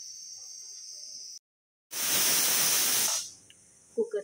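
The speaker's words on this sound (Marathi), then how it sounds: "कुकरची 1 सिटी झालेली आहे" A pressure cooker making pulao with peas vents steam in a loud, forceful hiss for about a second, then tapers off, with a fainter hiss before it and a brief pause in between.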